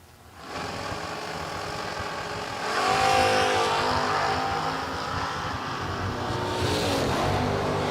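Drag racing cars launch at a season kick-off event, one of them a wheelie wagon, as a loud engine roar swells from near silence and then builds into a sustained, heavy, rising drone.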